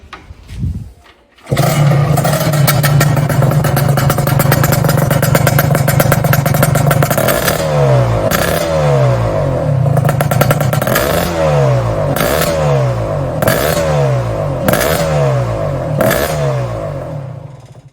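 A restored Yamaha RXZ six-speed two-stroke motorcycle starts up and runs loud and close, first holding a steady buzzing idle and then cycling through a series of repeated throttle blips with a rattly two-stroke crackle.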